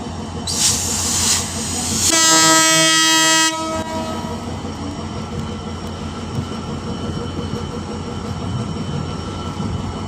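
Dhaka–Khulna passenger train at a station sounds a long, loud horn blast, then rumbles past with a steady rolling clatter that continues to the end, no talking.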